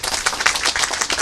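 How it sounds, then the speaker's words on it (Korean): Audience applause of thanks at a Saturday Marian devotional Mass, a dense, steady patter of many hands clapping together, fairly loud and sustained throughout. "함께 모든 인력들에 대해서 감사의 박수 한번"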